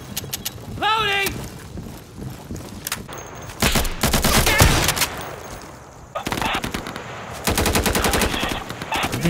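Gunfire in the video game Afghanistan Simulator, rapid automatic bursts and single shots in several loud clusters, with brief pauses between and voices talking over it.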